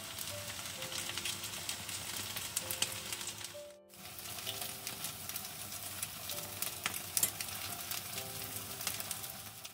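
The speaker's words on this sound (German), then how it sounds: "Kurz anbraten lassen, nicht sofort umrühren." Meat sizzles steadily in a pan with garlic, a dense, close frying crackle that runs throughout, briefly dipping once as the pan is stirred, with faint background tones underneath.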